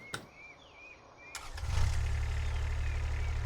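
A tractor engine in the video game Farming Simulator 25 fires up after a few faint clicks and chirps, settling into a deep, steady, close rumble.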